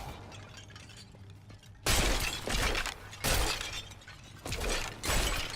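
Objects are smashed in Diablo III, with loud crashing and shattering bursts like breaking glass and pottery, four sharp impacts that arrive at roughly one-second intervals after a quieter opening.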